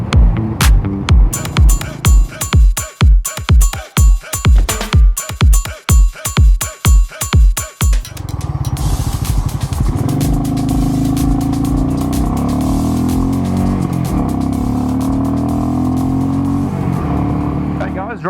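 A Royal Enfield 350 Meteor motorcycle gives a run of loud, rhythmic pulsing thumps, then settles into a steady, close engine drone as it rides along. No speech.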